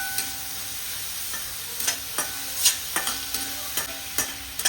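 Chopped onions, two medium ones, fry in a pan with cardamom under a steady bright sizzle, punctuated by irregular spatula scrapes and taps as they are stirred, close up with no talking.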